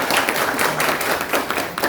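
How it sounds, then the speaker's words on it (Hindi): An audience claps at a workshop on waste segregation, a dense, steady burst of applause filling the short stretch without a break. "एक बार जोरदार तालियां"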